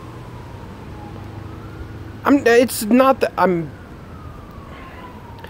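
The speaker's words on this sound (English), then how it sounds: "You can hear that siren?" An emergency vehicle siren wails faintly in the distance, a thin gliding tone running steadily in the background while someone talks briefly over it.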